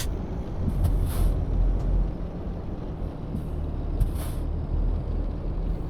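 Truck air brakes in a trucking video game: sharp hissing bursts of released air, two prominent releases and a few fainter puffs, over a steady rumbling engine and road drone, with no talking.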